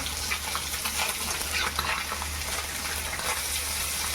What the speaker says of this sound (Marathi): एकदम साधे आणि सोपी पद्धतीची मच्छी फ्राय होते